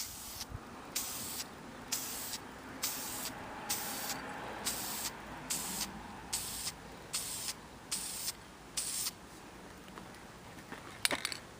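Aerosol spray can misting automotive paint for blending, a series of about a dozen short, evenly spaced hissing bursts, close and clear with no talk.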